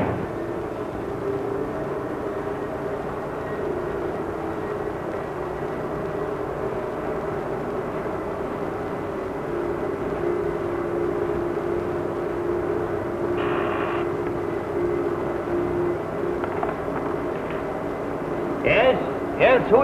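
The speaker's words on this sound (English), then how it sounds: "He is being flown here in a light plane." A steady droning engine hum of a small propeller plane fills the scene, with muffled voices and a few brief higher clatters near the end.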